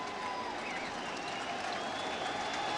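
A Mets baseball stadium crowd in a tied ninth inning against the Cardinals cheers and applauds continuously, a loud, dense roar of clapping and voices with whistles threaded through.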